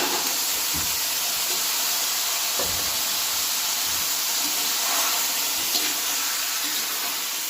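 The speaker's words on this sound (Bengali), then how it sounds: "আলুগুলো আমি পেঁয়াজের সঙ্গে ভেজে নেব" Half a kilo of potatoes frying with onions in a pan, a steady close hiss and sizzle throughout with faint clicks and stirring taps, no one talking.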